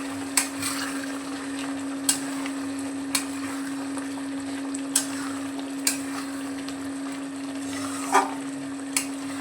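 Spiced masala and potatoes cooking in a covered pan for a green jackfruit and prawn curry, giving a steady low sizzle with a faint hum beneath and occasional sharp pops and clicks scattered throughout.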